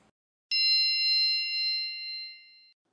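A single bright electronic chime from a SnapMath app notification rings out once after brief silence, its clear tone sustaining and slowly fading over about two seconds.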